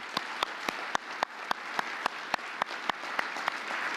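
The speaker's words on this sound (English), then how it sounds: "Let's give them a big round of applause, too." Awards dinner audience applauding, a soft wash of many hands under regular, distinct near claps from one person, steady across the whole stretch.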